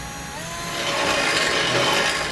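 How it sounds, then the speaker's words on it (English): A drill with a 1/4-inch bit grinds steadily into a 2017 Jeep Cherokee, boring a pilot hole, a continuous harsh whir that grows slightly louder as it bites in. "I'm going to be using a 1/4-inch drill bit to start out just for my pilot hole"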